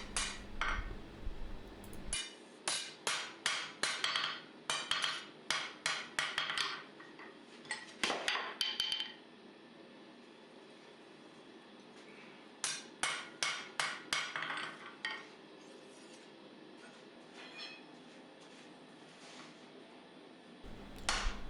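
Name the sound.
hammer forging hot steel knife on anvil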